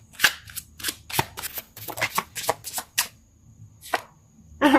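Tarot cards shuffled by hand during a love reading, a run of sharp, crisp riffling snaps and slaps at an uneven rhythm, close and clear with short pauses between bursts.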